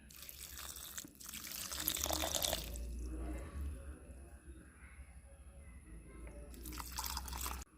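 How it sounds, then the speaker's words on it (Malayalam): Water is poured from a container onto potted tomato seedlings, making two short bursts of splashing and trickling separated by a quiet stretch, fairly close and moderately loud. "നമ്മൾ ഇത്തിരി വെള്ളം ഒഴിച്ചു കൊടുക്കാം എല്ലാത്തിനും."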